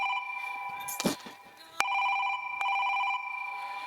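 A phone rings with repeated electronic tones, nearby and clear, after a brief burst of rustling at the start.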